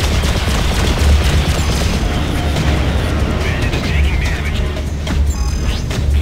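Enemy weapons fire hammers a ship's shields in the space game Freelancer, a loud, dense, continuous barrage of rapid impacts and booming blasts with crackling bursts throughout.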